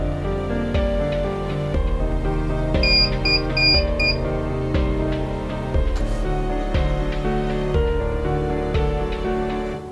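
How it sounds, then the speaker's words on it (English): A Dahua NVR security recorder sounds its alarm after a reed switch contact opens: a steady run of repeated electronic beeps, loud and continuous, layered over a dense tonal background. "the alarm will keep going off until the contact is made back up"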